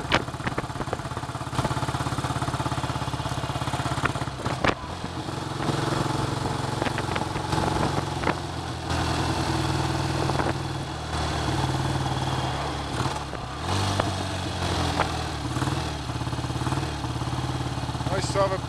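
A BSA A65T motorcycle engine, a vintage parallel twin, runs unevenly on one cylinder, a steady close-up throb with irregular misfiring beats under wind and occasional voice.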